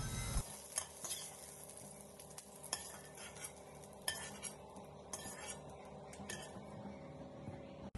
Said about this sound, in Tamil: அதுக்கப்புறமா வெங்காயத்தையும் போட்டு வதக்கி அதையும் தனியாக எடுத்து வச்சுக்கோங்க.